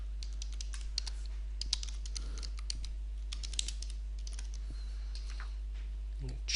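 Computer keyboard keys clatter in scattered, irregular bursts of close typing and clicks while a simple flowchart is built, with a steady low hum underneath.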